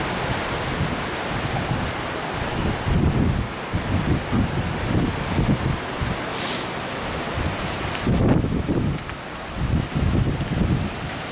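A strong fall wind storm in Laughlin, Nevada blows through trees in a loud, steady roar of rushing air, and heavier gusts buffet the microphone at intervals, with no talking.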